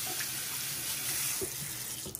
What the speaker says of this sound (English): you go ahead and you rinse it off in some warm water